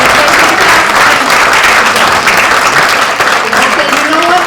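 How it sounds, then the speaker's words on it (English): A big round of applause from the audience at a Democratic club's monthly program, loud continuous clapping from a room of people, with faint voices mixed in toward the end. "may I please hear a big round of applause?"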